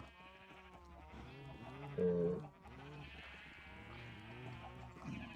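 Sheep in the video game Minecraft bleat in a wavering series of calls, one louder bleat standing out, beneath someone talking casually.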